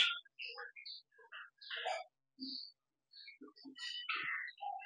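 Java sparrows, eight to ten pairs kept in a cage indoors, chirp and tweet in quick, scattered bursts, with several birds calling over one another at close range.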